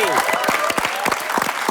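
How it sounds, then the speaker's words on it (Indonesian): Brief applause from a studio audience on a comedy show, a burst of claps with a voice and laughter mixed in. "Tepuk tangan dong"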